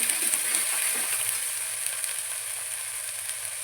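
Spices frying in oil for a hotel-style brinjal curry: a steady, bright, close sizzle that holds evenly throughout, with a faint stirring scrape near the start and no speech.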